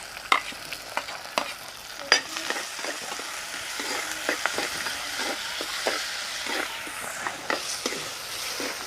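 Onion, garlic and curry leaves frying in a pan for a Kerala chempalli fish curry, with a soft, even sizzle and repeated spatula scrapes and taps, fairly quiet, without speech.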